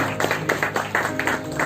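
An audience claps to welcome the chief guest, writer and artist Heera Singh Rana, at a literary event, with steady, moderately loud applause throughout.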